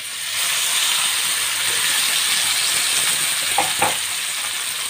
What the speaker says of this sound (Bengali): পেঁয়াজ ভাজাটা হয়ে গেছে। আমি এখন পানি দিয়ে দিব হাফ কাপ।